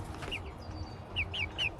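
Backyard chickens cluck and chirp in short, bright bursts, a few soft calls close by over a low background rumble, with no talking.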